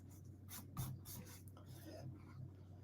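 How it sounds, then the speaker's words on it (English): A rubber eraser rubs out a pencil line on paper while making cards with designer series paper, giving quiet, close, repeated short scratchy strokes over a faint steady hum. "I'm going to rub out the outside line."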